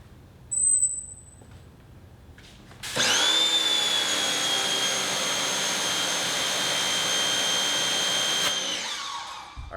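A Craftsman 1900 psi, 1.2 gpm electric pressure washer with an inline pressure gauge kicks on after a brief beep and rattle, holding a loud, steady high whine for several seconds before winding down.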